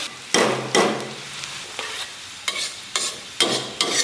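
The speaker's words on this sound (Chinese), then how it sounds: "油温5成热，咱们把这个姜给它下里边" Ginger tossed into moderately hot oil in a wok, with several sharp, close stirring and scraping strokes over a soft, steady sizzle.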